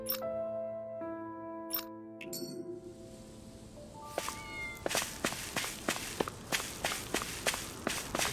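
A cat meows in the video game Tales of Arise, a short call over a soft tonal backdrop, followed by a steady run of close footsteps.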